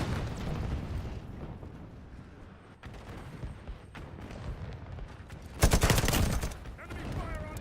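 Artillery strike in the first-person shooter Modern Warfare 4: rumbling gunfire and distant blasts build throughout, then a loud, sharp explosive burst lands near the end and trails off into fainter crackling.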